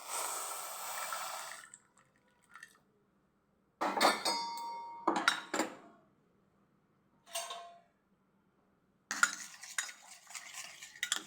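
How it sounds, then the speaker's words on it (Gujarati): Spoon whisking baking soda, oil and hot water in a bowl until frothy, given in quick close bursts of clinking, scraping strokes separated by silent pauses. "ફીણી અને એકદમ દૂધિયું બનાવી લેશું"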